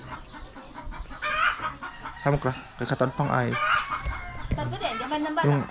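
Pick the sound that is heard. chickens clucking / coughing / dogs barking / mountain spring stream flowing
chickens clucking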